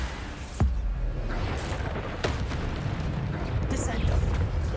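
Bombarda spell explosions in Hogwarts Legacy: a sharp boom lands early, then a rumbling, eruptive roar carries on under a player's continuous talk, loud and near throughout.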